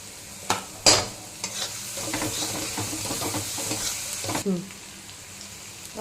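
Ginger and green chilli sizzle and fry in a pan while being stirred, with a couple of clinks of a spoon against the pan near the start and a steady crackle throughout.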